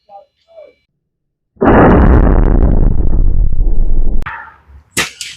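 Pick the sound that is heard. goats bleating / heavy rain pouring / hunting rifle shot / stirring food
hunting rifle shot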